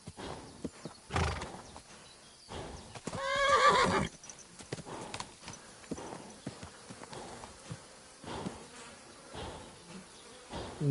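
Horse clip-clopping and neighing in the video game Kingdom Come Deliverance 2, with a clear whinny near the middle, hooves and insect buzzing throughout, moderately quiet.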